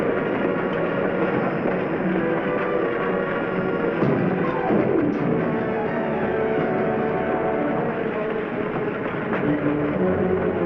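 A steady, dense rumble of a moving train fills the whole stretch, with a faint rising squeal partway through and no voices.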